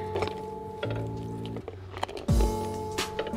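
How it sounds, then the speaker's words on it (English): Cold water runs into a pan holding eggs, splashing and gurgling close by over a low hum, with a few hard knocks as the eggs shift against the pan. "Put cold water in the pan."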